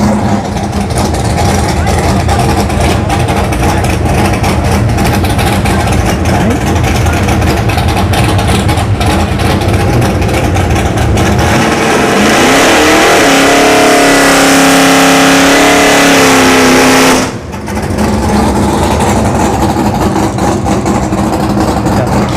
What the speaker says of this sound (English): Kia Stinger here, and Ari in the Norton Racing S10.